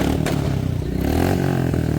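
A modified motorcycle at a bike show event rumbles and revs nearby, with a rough continuous engine note and a couple of sharp clattering knocks.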